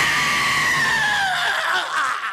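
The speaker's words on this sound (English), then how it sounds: "I was wondering where that scream came from." A cartoon scream from a Ren and Stimpy episode, a loud, high, sustained wail that slides downward in pitch and breaks up into a raspy tail near the end, heard alone.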